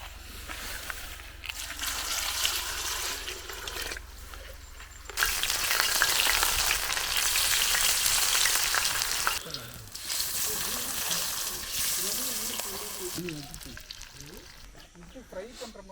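Crab fries in a pan over a village cooking fire, a loud hissing sizzle that swells and drops in sections, with a voice talking over parts of it.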